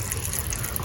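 Water gushes and splashes steadily as it is poured out for washing in a home kitchen, a brief continuous rush at moderate level.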